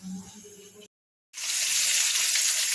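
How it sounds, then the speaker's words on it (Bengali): Potatoes fry in oil ahead of a mutton curry. A softer sizzle at first breaks off into a brief silence, then returns as a loud, dense, steady hiss until the end. "মাংসের আলুটা ভেজে নিচ্ছি আগে, তারপরে মাংসটা বসাবো।"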